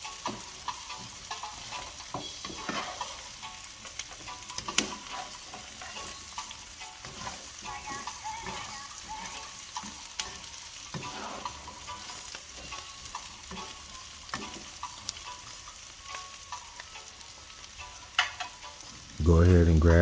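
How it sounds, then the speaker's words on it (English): Potatoes and egg frying in bacon grease in a pan, a steady quiet sizzle with occasional stirring scrapes, ending in a short louder clatter. "You'll hear it start to simmer now that this bacon grease is in there"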